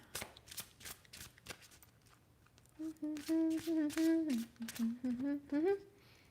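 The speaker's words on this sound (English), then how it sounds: "Let me do a little drop shuffle here." A drop shuffle of a deck of tarot cards, with a few crisp riffling card flicks near the start before a woman's sustained singing-like voice takes over the rest.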